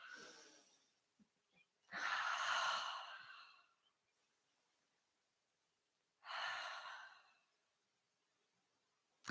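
Two long, deep breaths, each a slow airy exhale of about two seconds, separated by quiet pauses, close and fairly soft with no talking.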